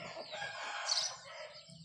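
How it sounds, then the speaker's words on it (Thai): Chickens nearby making drawn-out calls and clucks, with a rooster-like crow rising in the middle, no voices present. "ถุงเงินมันไปเลี้ยงไก่มันไปไล่ไก่ไม่รู้"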